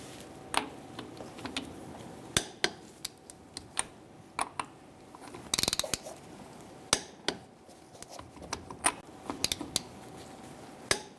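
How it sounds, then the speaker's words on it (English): Lug nuts on a 1998-2011 Ford Ranger wheel being torqued with a 19mm socket, giving sharp ratcheting clicks and metallic ticks at irregular intervals, fairly close, with a brief louder burst midway and no talk. "we're going to torque our wheels to 100 foot-pounds with a 19mm socket"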